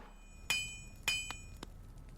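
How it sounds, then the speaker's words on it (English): Blacksmith hammering in the game Hollow Knight, a rainy city setting: two sharp ringing metallic strikes about half a second apart, each with a lingering tone and a lighter tap after, heard at moderate distance over soft ambience. "Is that a blacksmith hammer I hear?"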